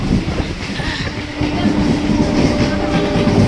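One train after another rolls along the tracks near Halisahar on a cool, rainy day, making a close, steady rumble with a rhythmic clickety-clack that builds slightly toward the end.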